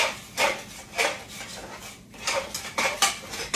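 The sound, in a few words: stirring sugar and butter in a pot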